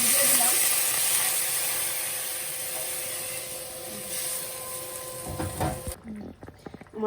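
Potato curry gravy simmers in a pan, a steady hissing bubble that fades slightly over several seconds, then cuts off into a few clattering knocks and stirring sounds at the end.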